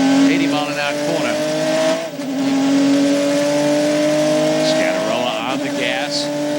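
A prototype race car's engine howls loud and steady at Petit Le Mans as it runs an uphill sweeping left-hander toward the final corner, pitch climbing and dipping through gear changes, with a brief lift around the midpoint.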